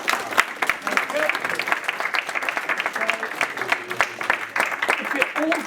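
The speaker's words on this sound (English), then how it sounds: "So give him a round of applause." Round of applause for Matthew Humphries: steady clapping from a group of people, dense and fairly close, holding for several seconds while a voice or two carries over it.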